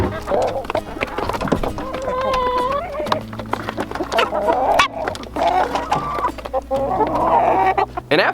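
A newly acquired backyard flock of chickens clucks and calls continuously at close range, with overlapping hen vocalizations rising and falling throughout and a person talking intermittently among them.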